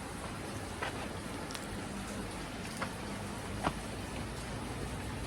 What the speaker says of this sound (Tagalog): Hinay natin magpatila ng ulan.